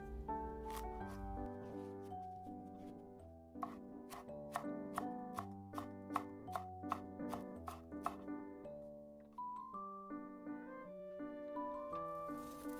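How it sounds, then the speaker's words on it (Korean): A knife chops paprika and perilla leaves on a cutting board in quick, rhythmic, crisp strikes, set against steady tonal background music. "파프리카 약간과 깻잎도 살짝 썰어서 준비해 주세요."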